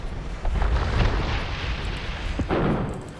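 Cannon fire from Age of Empires II, a string of booming blasts and thuds layered over a dense, continuous battle rumble, with heavier impacts near the start and again toward the end.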